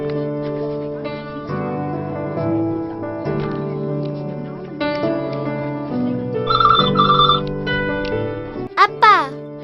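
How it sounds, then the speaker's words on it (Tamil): A telephone rings in a Tamil film office scene, a short electronic ring sounding partway through over a bed of music, with voices speaking around it. "பரு அந்த ஃபோன் எடு."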